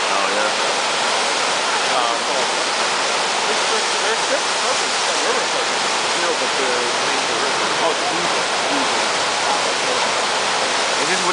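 Rushing river water at a river surfing spot in Munich, a loud, dense and unbroken roar of current filling the whole scene, with a brief spoken word over it.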